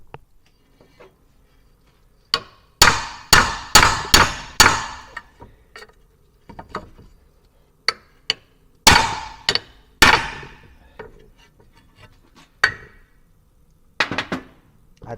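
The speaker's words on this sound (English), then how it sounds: "going to try to hit the rivets out." A hammer strikes rivets on a Mercedes 240D front suspension in loud metallic bursts, several quick blows in a row, then a pause, then another cluster, with scattered lighter taps between them.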